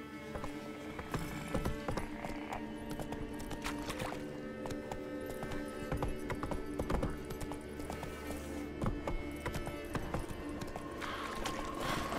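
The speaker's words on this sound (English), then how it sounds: "Whoa there, Roach" A horse gallops in The Witcher 3 video game, its hooves clip-clopping in a fast steady rhythm, loud and close throughout with a brief whinny-like cue and ambient game sounds.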